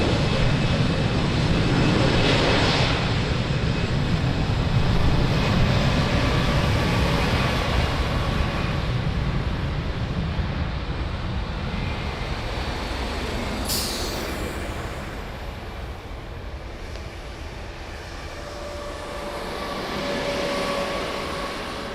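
A jet taking off from runway 02 at Lisbon Airport, a loud, steady broadband roar that holds throughout and eases slightly toward the end, with no voices.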